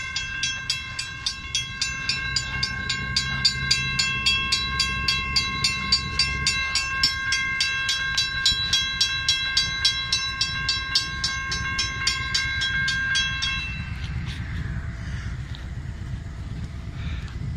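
Freight train rolling past on a Florida line, with steady wheel clatter and rumble throughout and a sustained horn blaring for much of the pass before cutting off, leaving the continuing roar of the cars.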